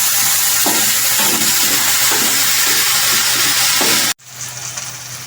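Two bay leaves sizzle steadily in hot oil in a pan for a Bengali bhetki fish-bone chorchori, with soft stirring scrapes through the frying, then the sizzle cuts off abruptly near the end.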